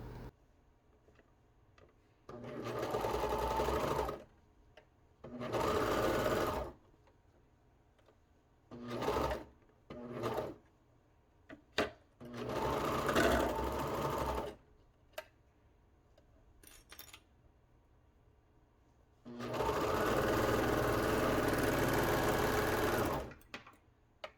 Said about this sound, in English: we're just going to stitch with our 3/8 inch seam allowance from top